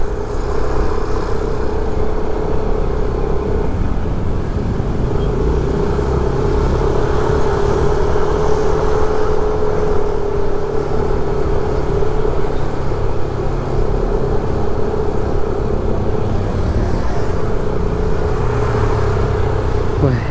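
Heavy traffic jammed on the road toward Kuta Beach in Bali near a skatepark, a loud continuous blend of idling and creeping car and motorbike engines with a steady hum throughout, close by.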